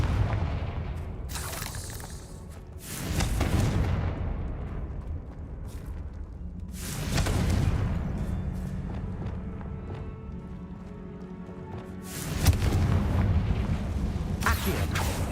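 Confringo blasting spells exploding in Hogwarts Legacy on PS5, several booming blasts in bursts a few seconds apart over game rumble and footsteps.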